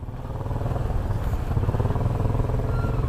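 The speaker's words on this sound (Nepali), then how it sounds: "अब साइलेन्सर पनि मोडिफाई रहेछ नि त यसको मोडिफाई डिस्कभर त भने नि हो बजाज" Bajaj Discover motorcycle fitted with a modified silencer exhaust, a loud, steady, throaty engine drone with a rapid pulsing beat running close by for the whole stretch.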